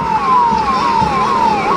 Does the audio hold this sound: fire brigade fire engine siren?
yes